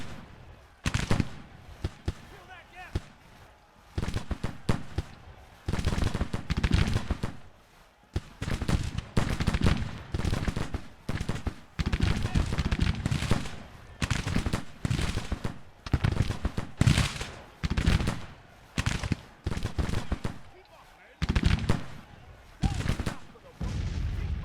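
Battlefield musket and cannon fire from an American Civil War strategy game, Grand Tactician: The Civil War, coming in irregular crackling volleys and thumps with short pauses, sustained throughout at moderate loudness.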